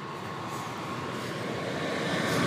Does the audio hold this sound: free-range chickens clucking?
no